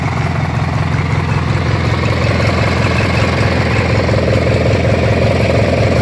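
Briggs & Stratton opposed-twin engine on a Craftsman T2200 lawn tractor idling steadily, a loud, close, even rumble with a fine rapid pulse that holds unchanged throughout, no voices over it.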